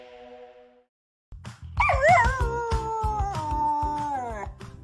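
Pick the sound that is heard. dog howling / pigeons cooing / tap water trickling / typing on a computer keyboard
dog howling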